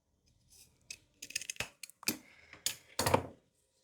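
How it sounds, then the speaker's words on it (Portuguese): Scissors snip through skirt fabric in a quick series of crisp, close cuts, some in short clusters, with quiet gaps between them. "eu vou dobrar ao meio, cortar"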